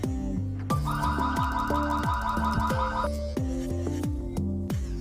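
A loud electronic siren alarm from an indoor PTZ IP security camera blares continuously, a rapid warbling tone sweeping over a pulsing low beat, with no voices.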